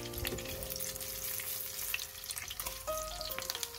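A chicken patty fries in a pan over medium heat, giving a steady, close sizzle with crackling that carries on throughout, with no voices.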